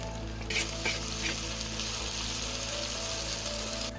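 Curry leaves, ginger-garlic paste and turmeric fry in hot oil for an egg drumstick curry, a loud continuous sizzle with a sharp burst of crackling near the start and a steady hiss after, with no talking.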